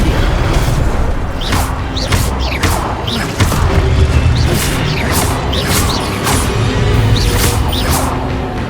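Fire spells cast during combat in Hogwarts Legacy: loud, dense game battle sound with repeated whooshing bursts and booming impacts over a constant mechanical rumble, with no break in the noise.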